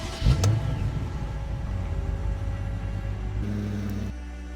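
A BMW Alpina B5, a super-saloon based on the regular 5 Series, cranks and fires into life with a brief sharp burst, then settles into a steady, deep idle rumble close by before the tone shifts slightly near the end.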